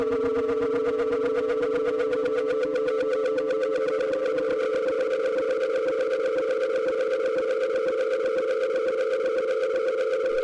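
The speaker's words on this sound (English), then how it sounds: "This way we can use the pattern directly as a sound, and over time we form a new, completely alien sounding composition." A synthesized tone generated from a Game of Life cellular automaton pattern drones steadily with alien, warbling layered pitches and a fast buzzing pulse, alone and unbroken throughout.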